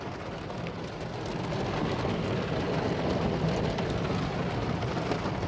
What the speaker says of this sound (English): So there's actually pieces of hail falling.